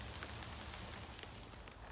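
Night rain falling outdoors, a steady dense patter on surfaces with scattered sharper drops, continuous and fairly close, no voices.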